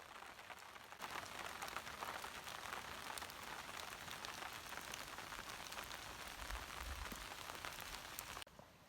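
Steady rain patters on a nearby tarp overhead at a lakeside spot in Killarney, a dense crackling hiss with occasional heavier drops; no voices.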